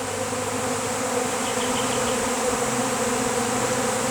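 A honeybee swarm that has just left its hive box near a tree fills the air with a dense, steady, loud buzz from countless bees, continuous throughout.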